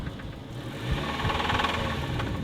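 A car engine runs close by with a rough, rapid knocking rattle from a worn bearing under its steady mechanical drone.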